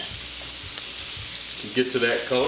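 Green beans fry steadily in a pan with a constant close sizzle, while a cook talks briefly over it near the end.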